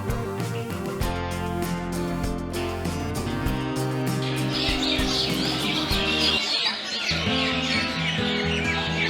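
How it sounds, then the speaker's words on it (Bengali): Birds chirp among the many trees of the Nuhash Polli garden in Gazipur, Bangladesh: high twittering calls rising over a steady, layered background, growing busier partway through, with no one talking. "আপনারা শুনতে পাচ্ছেন পাখির কিচিরমিচির শব্দ।"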